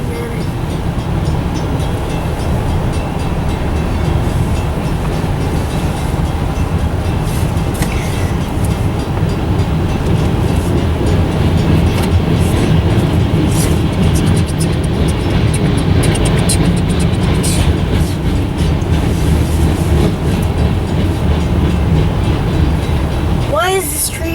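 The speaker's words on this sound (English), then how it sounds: "Why is this train so long? Because he's got a lot of cars that are loaded with salt." A long freight train of salt-loaded cars rolls steadily past near Mount Morris, a continuous loud rumble and clatter of wheels and cars that holds for the whole stretch, with faint voices now and then.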